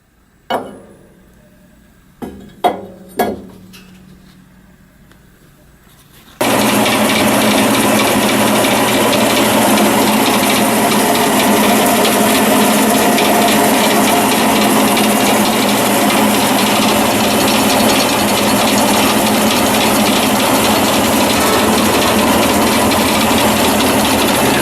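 A small mill-lathe machine cuts a Toyota Celica caliper bracket held in a jig; a few sharp knocks come first, then a loud, steady, broad grinding roar of cutting runs on without a break.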